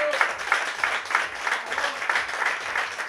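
A crowd at a retro marathon event in Padua, Buenos Aires, claps steadily for the event's organiser. The applause is dense and continuous, with no voices over it.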